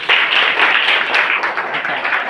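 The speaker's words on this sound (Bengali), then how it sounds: "তোমরা এই জন্য একটা হাততালি দাও সকলে" Classroom students applaud a light-refraction experiment with a short burst of dense, steady clapping.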